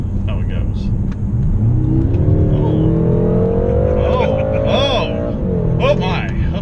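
A car accelerates hard on a closed course, its engine rumbling loud and close with rising revs throughout, while someone talks over it.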